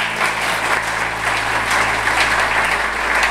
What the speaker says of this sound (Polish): Myślę, że dla nich gorące brawa.